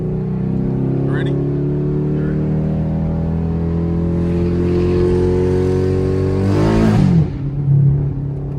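A 2016 Chevrolet Camaro SS V8 pulls hard, its steady engine drone holding strong under loud talk before a sudden swell and shift near the end.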